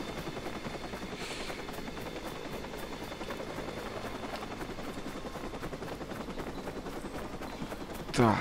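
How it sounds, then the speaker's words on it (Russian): A helicopter in the video game Watch Dogs drones with a steady, continuous rotor thrum throughout, loud and close, with a sharper burst at the very end. "А, это вертолет, вот он меня и палит."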